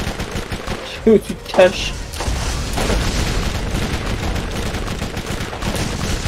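Gunfire and explosive booms from the video game Borderlands 1, a dense rattle of shots running steadily under excited player voices.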